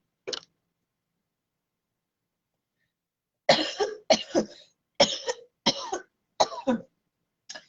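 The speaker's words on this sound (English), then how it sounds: "when you cough, that means you got the devil energy coming out" A single cough, then after a pause a run of six harsh, close coughs in quick succession, with silence between bursts.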